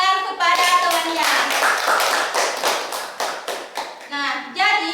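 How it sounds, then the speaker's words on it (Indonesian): Classmates clap for a fellow student at the end of a physics lesson in a classroom, a burst of several hands applauding close by with children's voices chattering over it, the clapping thinning into scattered claps near the end. "Oke, beri tepuk tangan kepada temannya."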